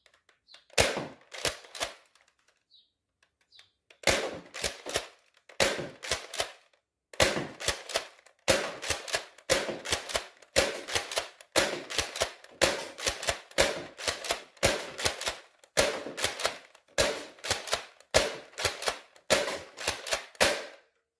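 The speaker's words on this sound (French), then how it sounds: "On va faire le test de tir." A modded Nerf blaster test-fires in a series of sharp, close snapping shots, first a few singles and then steady rapid bursts of clacking pops with brief pauses between volleys.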